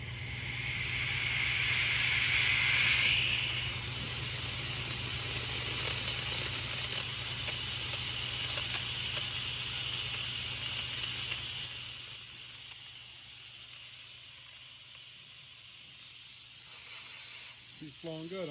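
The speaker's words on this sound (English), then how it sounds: "All right, I turned my compressor on." Air from a compressor hissing steadily through a DIY pressure bleeder, a continuous close rush of flowing air that holds level and then softens slightly toward the end, with no talk.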